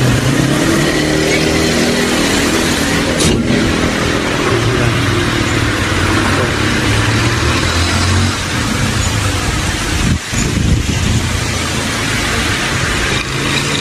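A Toyota Camry's 3.5-litre V6 2GR engine, freshly overhauled after a knocking fault, idles steadily and loudly close by, a smooth continuous hum with a couple of brief clunks.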